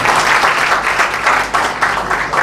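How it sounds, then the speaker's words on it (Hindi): Loud, dense applause from an audience at a college Independence Day event, honoring a teacher, with steady sustained clapping filling the whole stretch and no talk over it. "एक बार जोरदार ताली मैं चाहूंगा टीम सर के लिए"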